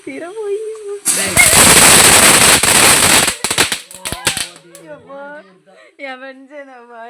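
Firecrackers at a Deepavali celebration burst close by in a loud, dense rapid-fire crackle lasting about two seconds, followed by a few scattered sharp pops, with people talking before and after.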